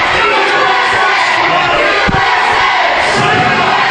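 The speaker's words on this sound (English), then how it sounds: "As we have the USA chant going on right now." A wrestling crowd chants and roars loudly and continuously in an arena, with a single thud partway through cutting across the sustained crowd noise.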